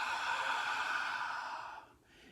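A soft open-mouthed "ha" breath exhaled as if fogging a mirror, demonstrating the Ujjayi breath; one steady, airy whoosh lasting about two seconds that fades at the end, close and quiet.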